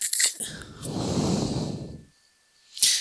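Heavy, ragged breathing close up, a long noisy exhale swelling and fading over about two seconds, bracketed by short sharp breathy bursts at the start and end with a quiet gap before the last.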